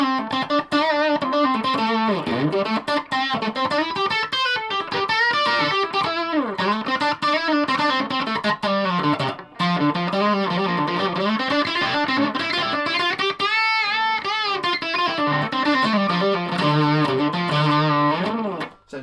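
A Vantage Avenger electric guitar in a purple flake finish played through heavy distortion on its single-coil pickup setting, a continuous, loud, sustained stream of bending, wavering notes and chords with no talk over it.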